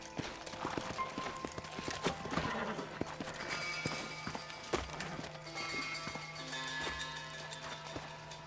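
Horse hooves clatter at a steady gallop over a busy Red Dead Redemption soundtrack on Xbox 360, with scattered thuds and mechanical clanks; no one speaks.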